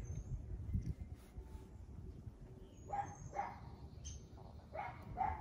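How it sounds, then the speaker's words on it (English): A neighborhood dog barks in a few short bursts, moderately distant, over a steady low outdoor rumble. "me and the neighborhood dog yapping away"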